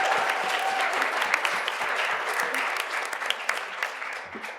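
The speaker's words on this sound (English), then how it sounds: "Maybe one more round of applause for good measure." An audience at the closing of an art and identity panel session gives a sustained round of applause, with individual claps standing out, gradually easing off over a few seconds.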